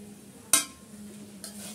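Spoon stirring grated pointed gourd into spiced prawn masala in a pan, one sharp scrape near the start and a softer one later over a faint steady sizzle.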